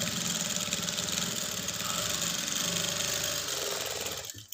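A sewing machine runs continuously while top-stitching a lined blouse, a steady, close mechanical whirr that cuts off abruptly near the end.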